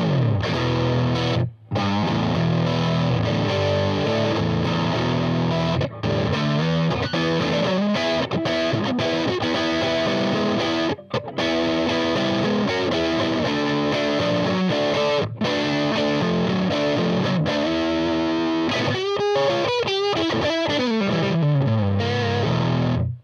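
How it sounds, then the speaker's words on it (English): Sterling by Music Man S.U.B Axis electric guitar played through distortion with both humbucker pickups on, a continuous loud run of riffs and chords with brief pauses and ringing sustained notes near the end, no talking. "The often overlooked middle position on dual humbucker guitars."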